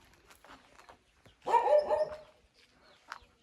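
Big dogs at Besa Gowda Fort near Madanapalle let out one drawn-out bark of moderate loudness, set a little back from the listener, against an otherwise quiet outdoor background.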